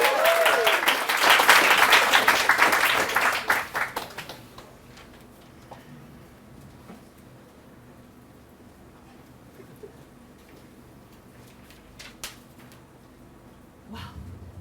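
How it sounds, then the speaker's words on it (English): Applause for a storyteller from a small gathered audience, loud clapping for about four seconds that quickly dies away into quiet room tone with scattered faint ticks. "of applause for Lizzy."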